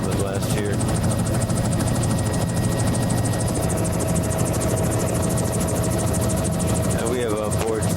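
Helicopter flying along the coast between Fourchu Head and Kennington Cove, its rotor chop and engine drone steady and loud throughout, with voices talking over it.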